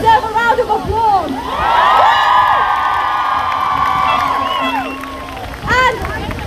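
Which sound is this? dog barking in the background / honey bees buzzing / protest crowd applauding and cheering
protest crowd applauding and cheering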